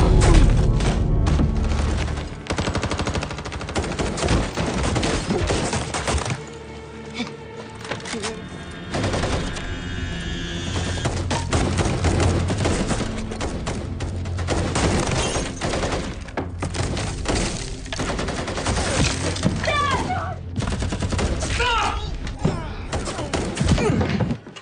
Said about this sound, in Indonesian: Gara-gara baku tembak tadi, banyak anak buah Paijo yang tumbang dengan mengenaskan.